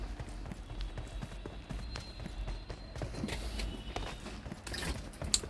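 A horse gallops across the Erangal map in the BGMI video game, its hoofbeats a steady rapid clatter mixed into dense, busy game noise throughout.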